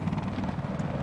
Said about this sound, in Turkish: helikopter vurabiliyoruz mu acaba ya?